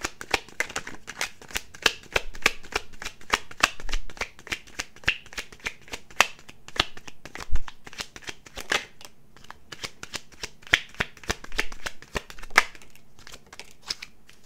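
A deck of tarot cards is shuffled close up: quick, crisp riffling snaps and flutters repeat almost nonstop for about fourteen seconds, with brief pauses between bursts and no talking.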